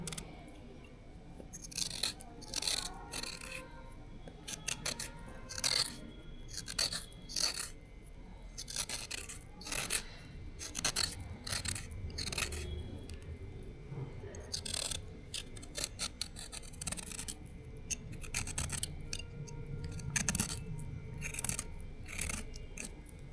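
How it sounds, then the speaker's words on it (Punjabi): Radishes being peeled with a knife for radish-leaf bhurji, a run of quick, close scraping strokes in an irregular rhythm with brief pauses between them, no talking. "ਮੂਲੀਆਂ ਨੂੰ ਆਪਾਂ ਛਿੱਲ ਕੇ ਥੋੜਾ ਥੋੜਾ ਫਿਰ ਚੀਰ ਲਾਂਗੇ"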